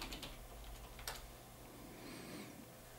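Typing a password on a computer keyboard during camera software setup, a short quiet run of soft key clicks with a couple of sharper taps, close by and alone.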